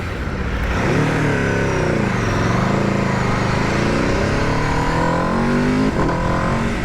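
A 2021 Aprilia RSV4 1100 Factory motorcycle screams loudly on a road test, its engine pitch climbing and dropping through several quick gear changes with sharp shifts between pulls.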